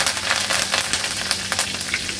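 Asafoetida and curry leaves sizzle in hot oil for a tempering, a steady close crackling hiss with brief bright pops and no voices.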